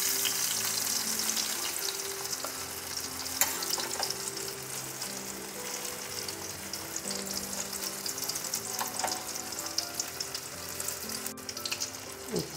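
Prawn paturi wrapped in pumpkin leaves fries in hot oil with a loud, continuous crackling sizzle and a few sharper pops from close by.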